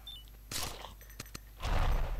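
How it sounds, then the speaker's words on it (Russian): Gunfire from the Stickman and Gun 2 video game: a few sharp bursts and single shots crackle close by, with quieter stretches between. "Давай, давай, стреляй, выстреливай всех."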